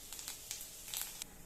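Quiet crackling and popping of cumin seeds spluttering in hot coconut oil, irregular little bursts over a soft sizzle.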